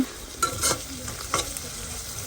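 Onions frying in a pan, a close, continuous sizzle with a few sharp scrapes and knocks from stirring spaced through a brief stretch, no speech.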